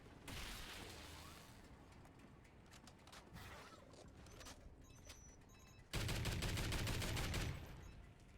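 Sustained rapid gunfire rattles throughout a Call of Duty: Ghosts Extinction match as a generator comes under attack, loud and dense, with an even harsher burst of automatic fire kicking in near the end.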